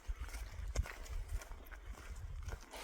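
Horses walking a hiking trail on the Appalachian Trail in North Carolina, their hooves giving a soft, steady clip-clop that sits faint and muffled beneath a low outdoor rumble.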